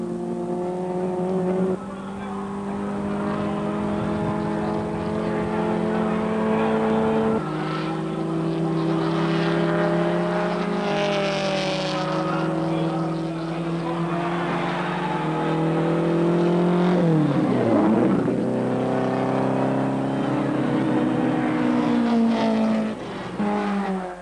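1960s saloon race cars lapping the Sandown circuit during the 1965 six-hour race: a sustained engine drone whose pitch rises and falls through gear changes, with one car sweeping past prominently midway.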